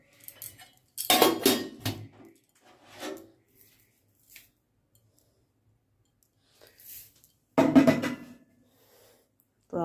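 A metal spoon clinks and scrapes in a bowl while scooping sugar for a chhatu-muri snack. Two short bursts of clatter stand out against a quiet background, with faint softer scrapes between them.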